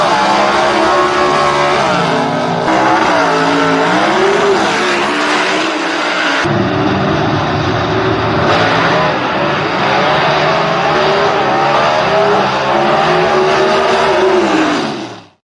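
Gasser-class drag racing cars launch at a Southeast Gassers Association event, engines roaring loud and continuous for about fifteen seconds with repeated revving surges before cutting out abruptly.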